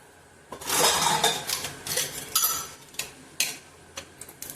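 A frying pan is set down and handled as oil goes in before a potato cutlet is shallow-fried, giving a few close metallic clinks and scrapes that thin out into scattered light taps.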